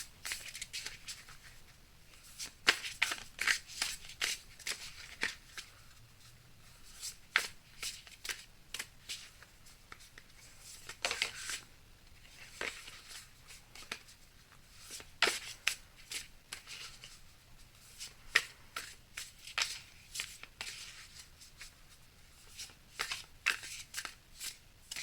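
Amenti Oracle cards being shuffled and cut by hand: soft, quiet riffling and snapping bursts that repeat in an irregular rhythm, close by and alone.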